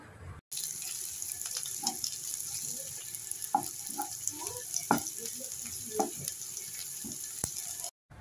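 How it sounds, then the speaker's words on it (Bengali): Chopped onions and green chillies frying in mustard oil over tempered spices, a soft continuous sizzle with scattered clinks and scrapes of a spatula stirring in the pan, close, quiet and without speech. "পেঁয়াজ খুব ভালো করে ভেজে নিতে হবে"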